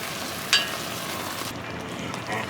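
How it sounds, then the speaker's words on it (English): Homemade plum sauce from overripe fruit simmers in a pan, giving a steady, soft broadband sizzle and bubbling that continues evenly throughout, with one brief louder clink near the start. "The plum sauce is simmering away behind me."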